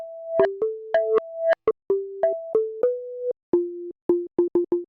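A distorted bell sample played as a synthesizer wavetable sounds out in a series of short, clean tonal notes at changing pitches, some sustained and some clipped, ending in a quick stuttering run of repeated notes.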